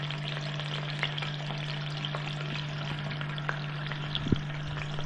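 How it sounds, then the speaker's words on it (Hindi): Pieces of fish frying in hot oil produce a steady, moderate sizzle with small crackles and one brief louder tap near the end, over a constant low hum. "ये मछली फ्राई हो रही है"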